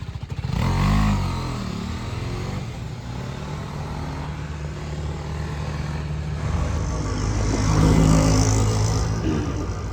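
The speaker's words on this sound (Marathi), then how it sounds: "आता बघा बाईक आता सणा पिरी पिरी निघेल बघा" A BMW motorcycle engine rumbles steadily up close as the bike sets off for a ride, with a continuous low drone that swells louder near the end and no voices.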